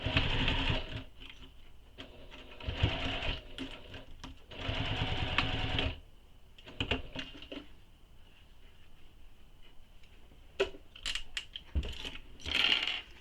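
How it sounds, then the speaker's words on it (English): Sewing machine basting layers of waist pack fabric, running in several loud bursts of rapid stitching separated by pauses with small clicks and handling noises, close and without speech. "I'm going to baste this in place first so that it doesn't shift on me."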